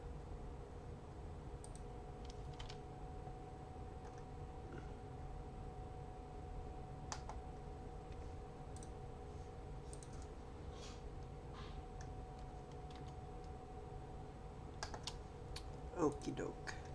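Typing on a computer keyboard, a steady patter of light clicks at low level under a constant hum, with a couple of louder clacks near the end.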